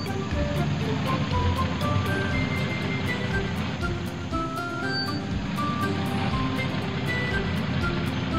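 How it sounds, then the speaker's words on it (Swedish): A cartoon timber truck with a grapple arm and a long log bed drives up to a river, its steady engine drone continuous and fairly loud alongside regular beeping and a watery background wash. "Timmerbilen kör fram till ån."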